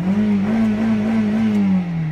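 A car engine revs steadily close by with a smooth, sustained drone that rises and falls slightly, loud and alone with no talk over it.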